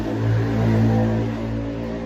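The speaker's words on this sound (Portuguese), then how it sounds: "A moto." A motorcycle engine revving steadily at close range, a continuous low throbbing drone that swells slightly and holds without a break, with no voices over it.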